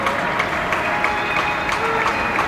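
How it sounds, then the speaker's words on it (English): Neighbours in a Buenos Aires apartment building clapping together, a steady, distant wash of many hands that holds without a break and carries a faint hiss of the street behind it. "Sometimes I get to see people clapping."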